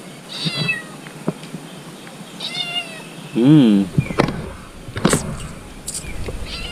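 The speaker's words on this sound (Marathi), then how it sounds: "मांजर आमचं का ओरडते काय समजत नाही" A house cat meows several times at a home in Rajapur, Konkan, one loud drawn-out meow close by in the middle, with softer meows and light background clatter around it.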